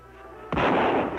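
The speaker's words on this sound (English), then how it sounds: "Who's shooting?" A single loud gunshot bursts out in a western scene, sharp onset followed by a booming, echoing tail, alone with no talk.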